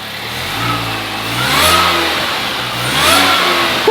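Supercharged Mini Cooper S engine revved twice from idle, each blip rising and falling in pitch, loud and close, with a rough idle between the revs and no talking.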